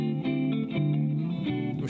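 An electric guitar rings out with reverb in a guitar-show setting, sustained chords shifting and blooming in a washy tail, played alone without speech.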